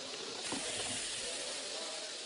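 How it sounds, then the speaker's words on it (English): A rattlesnake shaking its rattle of loose interlocking scales, heard as a steady, dry, buzzing hiss that runs unbroken for over two seconds, fairly faint and even, with no voices. "The rattle is a series of loose-fitting interlocking scales that, when shaken, produce a sound that warns large animals not to step on the snake."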